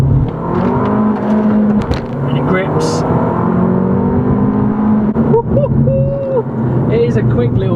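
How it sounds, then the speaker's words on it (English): An Abarth 595 Esseesse with a manual gearbox accelerates hard in first gear from about 15 mph. The engine note is loud and rising, heard from inside the cabin, with someone talking over it throughout. "let's put it in first gear, and we're gonna do a punch roll from 15 mile an hour"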